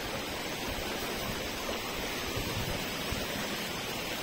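Mangardora waterfall in Nabarangpur pours in a constant broadband roar, a steady, fairly faint wash of falling water with no breaks and no other sounds.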